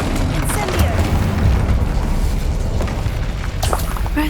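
Booming fire-spell blasts in Hogwarts Legacy, including an Incendio cast, burst one after another over a rumbling game soundscape, loud and close.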